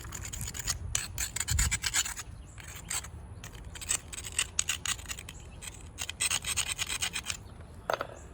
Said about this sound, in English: My high grit abrader, I don't have one at the moment, so I'm using a low grit